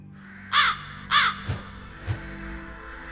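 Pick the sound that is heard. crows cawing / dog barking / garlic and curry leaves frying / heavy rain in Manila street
crows cawing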